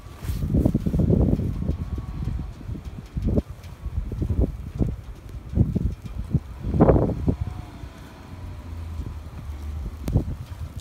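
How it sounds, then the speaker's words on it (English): Steady cold wind rumbles and buffets outdoors in Brooklyn after a snowstorm, with low gusty noise swelling and easing throughout and a few brief knocks and rustles. "It's cold and windy."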